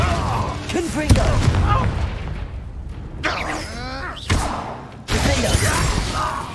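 Confringo blasting spells in Hogwarts Legacy burst in a rapid series of sharp, booming explosions, with other battle effects and voice-like sounds in between.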